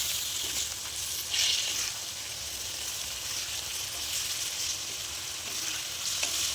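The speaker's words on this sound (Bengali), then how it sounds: "একবার খুন্তি ঘুরিয়ে দেবো এদিক ওদিক।" Marinated chicken frying with onions in a kadai, stirred with a metal spatula: a steady, dense sizzle throughout with a few brief scraping accents, close and fairly loud, no voices.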